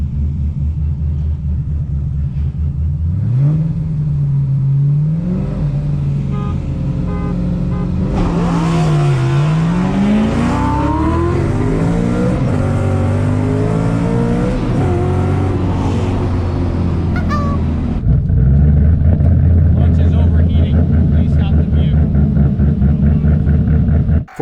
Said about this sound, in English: I've punched the R8 from a stoplight a couple times and it's still pretty violent